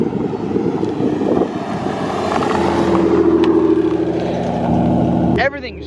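Supercharged 3.7 V6 Mustang fitted with a GT500 M122 blower, heard as a loud, sustained engine drone with a rising supercharger whine, cutting off sharply near the end.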